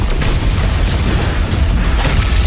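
A massive explosion in the animated series Swallowed Star produces a sustained, loud, rumbling boom with dense low-end roar and no voices.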